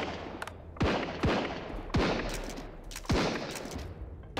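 Enemies fire from the windows in the survival game Sunkenland: four or five sharp, loud gunshots with ringing tails, spaced irregularly over a few seconds, with no talking.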